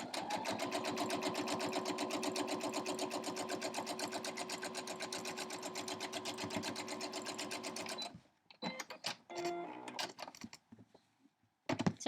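A sewing machine stitches quilt crumb strips in a fast, steady mechanical chatter for about eight seconds, then stops, followed by scattered handling clicks and rustles.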